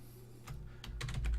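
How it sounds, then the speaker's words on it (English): Quick keystrokes on a computer keyboard as a question is typed into ChatGPT, a burst of close, crisp clicks in uneven rhythm with no talking. "the first thing I'm going to type in is, what is"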